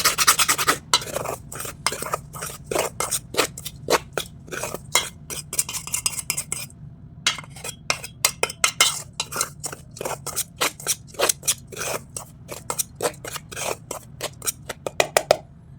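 A spoon clinks and scrapes briskly against a bowl while coconut oil is mixed for wheat biscuit dough, a steady run of sharp metallic taps with a short pause partway through, close and clear with no talking.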